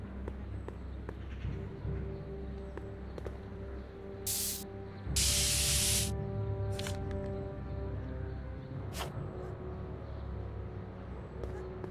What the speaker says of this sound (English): Spray paint. Directions say to apply a thin coat and let dry.